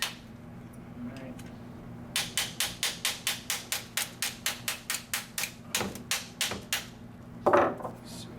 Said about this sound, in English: So let's just break this one up. Get all the plaster out.